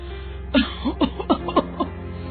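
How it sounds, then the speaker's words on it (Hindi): An elderly mother's persistent coughing: a quick run of about six close, harsh coughs in a row, near and fairly loud against a quiet background. "ये खांसी तो जा ही नहीं रही है"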